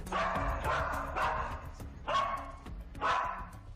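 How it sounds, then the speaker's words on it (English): A cadaver dog barks several times in a loud, close series of sharp barks with short gaps, over a low background rumble. "The cadaver dog, which tracks the smell of a dead body, also grabbed Madeleine's favourite toy"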